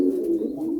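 Pet pigeons kept in a home loft coo steadily at close range, a soft, throaty rolling coo that swells and fades under light room noise.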